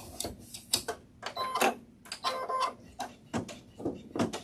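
Embroidery machine stitching a felt mask muzzle, a quiet run of rapid mechanical clicks and whirring bursts that start and stop in uneven pulses, close by with no talking.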